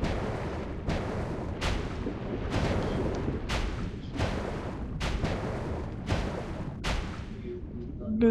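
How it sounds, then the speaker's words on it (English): Repeated gunfire in the mobile battle-royale game PUBG Mobile, about eight sharp, loud shots at uneven intervals over a continuous rumbling backdrop. "This is shooting."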